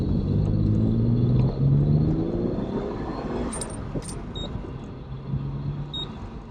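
A 1992 Dodge Stealth R/T Twin Turbo drives and slows under braking, heard from inside as a loud engine rumble whose pitch rises and then sinks as the car decelerates, with faint squeaks and clicks toward the end.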